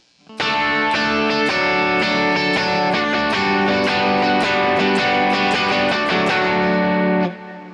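Distorted electric guitar strums a steady rhythm of repeated chords, washed in reverb, then stops and the sound rings out briefly.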